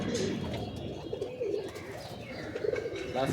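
Pigeons kept at a house coo and call in soft, overlapping bursts, a steady murmur of close bird sounds with faint voices in the background.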